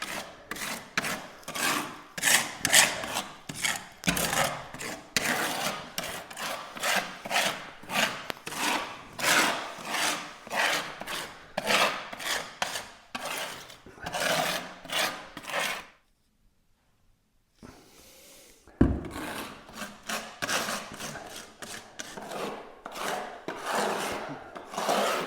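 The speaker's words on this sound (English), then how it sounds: "I just need to spread it on like this, just scrape it around a bit." Adhesive remover being scraped and spread across a hearth beside wooden edging, a steady run of close, rhythmic rasping strokes that stops briefly, then resumes with a sharp knock.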